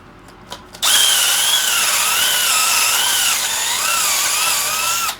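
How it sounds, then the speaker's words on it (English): A power drill spins a bit through a hole in wood to widen it while building a storage box shelf. A steady, close, high-pitched whine runs for about four seconds after a short start, with no talking. "Using the same drill bit to make it just a little bit bigger so it goes in easier."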